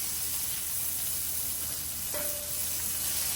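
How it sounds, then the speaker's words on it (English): Two tablespoons of butter and garlic sizzle in a hot pan for lemon burrata pasta sauce, giving a loud, steady frying hiss that runs unbroken throughout, with one brief squeak partway through and no talking. "We're going to add in 2 tablespoons of butter and our garlic, and we just want to let that get fragrant"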